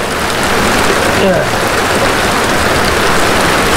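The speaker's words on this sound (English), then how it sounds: "You can see it just pouring down now." Heavy thunderstorm rain pours down steadily during an outdoor fishing trip, a dense, loud, unbroken hiss with a person briefly speaking under it.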